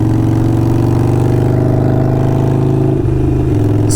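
A Harley-Davidson Sportster 48 with a 1200cc V-twin engine and Kinetic 540 laterals exhaust holds a loud, rumbling rev close up, the deep pulsing note shifting pitch briefly near the end.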